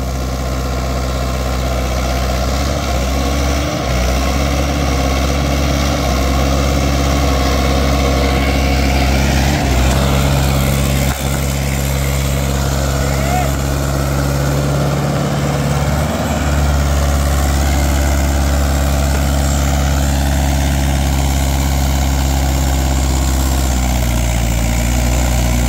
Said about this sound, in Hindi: परफॉर्मेंस चेक करो, ट्रैक्टर का इंजन दाब नहीं मान रहा।